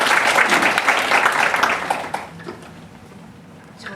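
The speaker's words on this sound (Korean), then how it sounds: "박수 부탁드립니다." Crowd applause at a Korean-language speech contest as a presenter is introduced, a thick clapping burst for about two seconds that tapers into scattered claps and room quiet.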